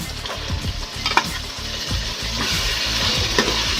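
Soaked chana dal goes into a pan of sizzling garlic and green chillies, giving a loud, close frying hiss with repeated scraping and clattering as a spoon stirs the pan.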